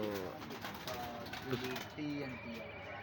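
Pigeons coo on a rooftop loft in a short burst of soft, repeated throaty calls, close by, with someone talking over them.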